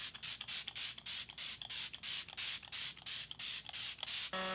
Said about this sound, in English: I'm just going to spray the face with this